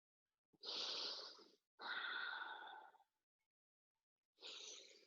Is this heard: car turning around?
no